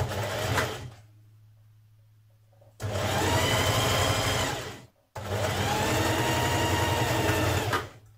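Sewing machine stitching 1.5 cm seam allowance shoulder seams on jersey fabric for a tee, two long steady motor runs separated by a short near-silent pause, loud and close with no talking.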